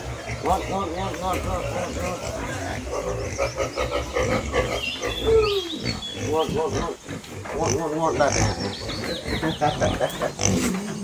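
Pigs grunting and squealing continuously, loud and close, several animals overlapping in a busy, noisy pen at a longhouse.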